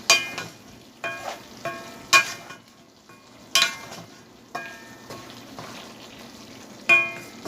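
Rohu fish pieces with flat beans being stirred and sautéed in a pan, with soft frying and repeated scraping strokes of a spatula coming at an uneven rhythm, close and moderately loud, no talking.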